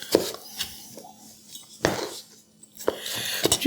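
A knife cuts out a seed on a cutting board while cooking peanut chicken with rice. Several sharp knocks and clinks of the blade against the board are heard, spaced apart, with quiet gaps between them.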